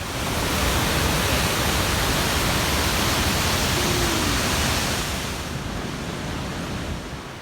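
A rushing river at a High Sierras trail crossing roars as a steady, loud broadband wash of water, close by and unbroken, easing slightly toward the end.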